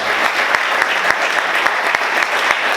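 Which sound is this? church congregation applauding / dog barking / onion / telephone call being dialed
church congregation applauding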